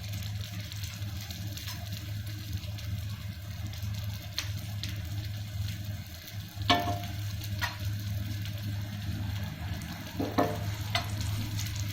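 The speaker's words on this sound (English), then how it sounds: "we placed all the cutlets to cook into fry in tawa" Yam (suran) cutlets shallow-frying in oil on a flat tawa, a steady close sizzle running throughout with a few brief clinks and taps from handling, no voices.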